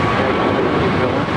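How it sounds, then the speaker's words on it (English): Heavy jet airliner taking off at LAX, a loud, broad roar of engines filling a short stretch without a break, steady and close. "Takeoff right there, heavy depart Charlie"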